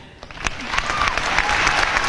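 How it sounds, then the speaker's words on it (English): A graduation audience breaks into applause for the school's faculty and staff, starting with scattered claps and swelling into a full, dense ovation over two seconds. "please give a round of applause after each of the following"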